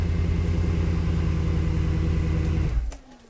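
A cold Mercedes C63 Black Series sits idling with a deep, steady, close rumble and even harmonic pulses, not revved, before the engine note cuts off abruptly near the end, leaving near quiet.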